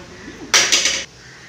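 A steel spoon stirs and scrapes food in a metal pot in a home kitchen, giving a loud, bright burst of three quick scraping clanks lasting about half a second, with quiet room tone before and after.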